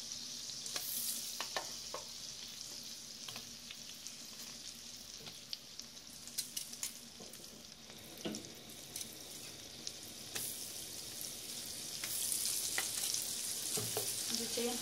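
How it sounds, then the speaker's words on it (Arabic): Potatoes frying in plenty of butter in a home kitchen pan, a steady close sizzle with scattered pops and crackles and occasional stirring scrapes, swelling a little louder toward the end. "غادي نبدا نحط بطاطا تقلى، بطاطا كتبغي زبدة بزاف"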